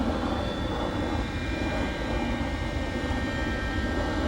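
An RC model airplane's motor drones steadily and continuously as the plane turns onto its approach to land at a runway, a constant buzzing engine tone with no talk.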